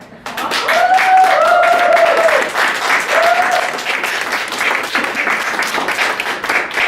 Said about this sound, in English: So this is the time for your first round of applause